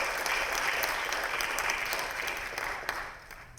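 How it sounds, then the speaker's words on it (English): Audience at a conference in a national convention centre claps in sustained applause, a dense even wash of many hands that holds steady and fades slightly toward the end. "So maybe we have to give an applause now."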